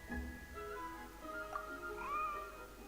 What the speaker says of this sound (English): Here, kitty. That's it, Snowball. Good kitty.